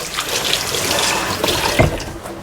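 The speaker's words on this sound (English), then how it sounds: "I'm going to give a quick wash" A kitchen faucet runs steadily into a sink while hands with salt and pepper on them are rinsed under the stream, a close, continuous broadband splash with small irregular bursts as the flow shifts, and no voices.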